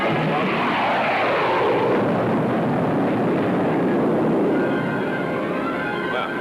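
In a 1954 film, a weapon is fired at a target and an explosion follows, heard as a loud, sustained roaring rumble that swells and then slowly fades, with engine-like drone underneath.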